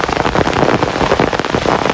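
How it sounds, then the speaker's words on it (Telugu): Heavy rain pouring down over a groundnut field in a rural village, a dense, steady hiss of drops hitting surfaces that fills the whole stretch with no voices. "చూడండి ఏ విధంగా వర్షం అనేది పడుతుందో"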